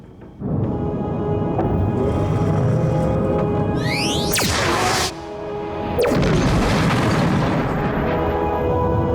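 A shock torpedo fired from a spaceship in a sci-fi TV series: a swooping, whooshing launch blast followed by a heavy rumbling boom over constant low engine drone, loud and close.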